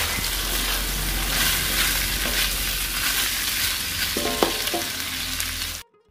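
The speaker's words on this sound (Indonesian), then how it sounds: "Kemudian masukkan buncis yang telah diiris-iris. Aduk." Sliced green beans are stirred as they fry in a pan with bay leaves, a close, continuous crackling sizzle with scraping spoon strokes and a few clinks, cutting off abruptly just before the end.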